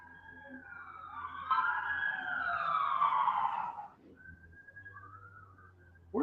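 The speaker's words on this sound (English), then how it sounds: "Yeah, sirens." Sirens wail in the distance outside during a storage unit hunt, a rising and falling tone that swells, fades, and returns faintly over low background noise.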